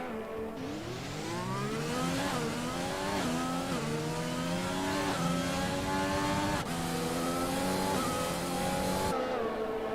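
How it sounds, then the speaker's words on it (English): A Ferrari Formula One car in the F1 2020 racing game screams through gear changes in repeated rising engine sweeps, with other cars droning alongside on the track. "a Ferrari passes by"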